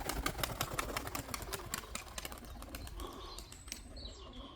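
Pigeons flap their wings in a rapid flurry, with repeated sharp beats close by that thin out and fade.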